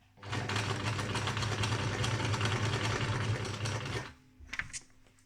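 A sewing machine runs steadily with a fast, even whir for about four seconds, then stops, followed by a few faint clicks.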